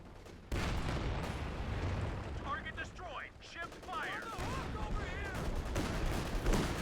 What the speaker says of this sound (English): we have some artillery being dropped here